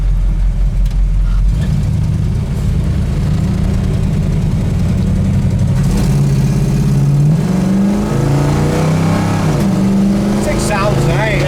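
A 1965 Chevelle SS engine runs loudly up close, a deep rumbling idle that rises into several revs and settles again, with people talking over it throughout.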